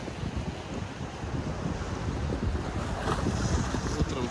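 Rough waves on the Black Sea near Sochi on an overcast, mild February day, rolling surf and sea wash steady and fairly loud with wind buffeting the microphone throughout.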